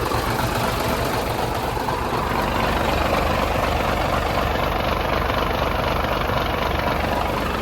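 Hino FM 320 P 6x4 diesel truck from 2011 idling steadily at close range, a constant low rumble with exhaust hiss running unbroken throughout, no talk over it.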